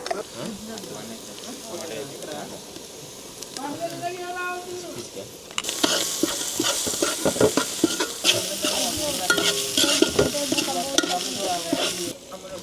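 Onions frying with ginger, garlic and turmeric over a wood-fired stove outdoors, a steady sizzle that turns louder and harsher midway as the spices go in, with stirring scrapes and people talking throughout.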